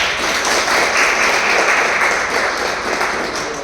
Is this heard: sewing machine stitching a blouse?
no